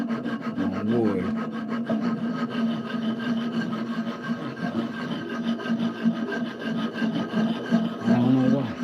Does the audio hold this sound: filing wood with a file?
yes